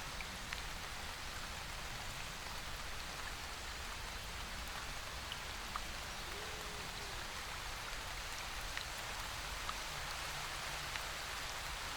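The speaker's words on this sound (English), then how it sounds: "You can hear the crashing and thrashing muffles of the waterfall" A woodland waterfall pours in a steady, dense wash of falling water, constant and fairly loud throughout with no break, no voices.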